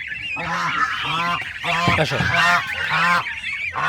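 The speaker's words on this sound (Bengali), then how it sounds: "এইসব রাজহাঁসের বাচ্চাগুলো এনে রাখা হয়েছে" A cluster of young domestic goslings honks in quick repeated bursts close by, loud and continuous with no talking.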